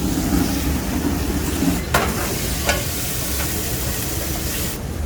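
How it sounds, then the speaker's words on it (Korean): Automated cooking machine flame-grilling braised monkfish, giving a steady close sizzling, stirring roar throughout, with a couple of brief metallic clanks. "저희가 직화 기능 써가지고"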